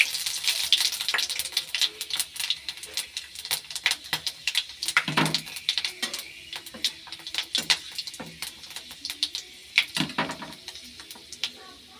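Five-spice seeds (panch phoron) are tempered in hot oil, giving a continuous crackling sizzle. Sharp pops and a couple of louder spits stand out along the way, and no one speaks.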